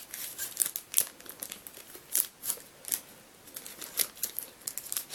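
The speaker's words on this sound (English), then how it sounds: "It's not my first time opening packs." A Pokémon card pack wrapper is torn open and handled close up, with crisp crinkling and tearing bursts of foil plastic repeating irregularly over a few seconds, without speech.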